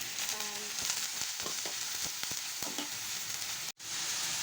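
Onion sizzles steadily in a hot pan while chopped carrot goes in, with a few sharp spoon taps and scrapes breaking through the continuous close frying sound. No one talks.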